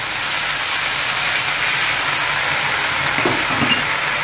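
Cabbage with Schezwan sauce sizzling in a pan over high flame, a steady loud hiss of frying that runs unbroken throughout, with a few faint stirring touches near the end.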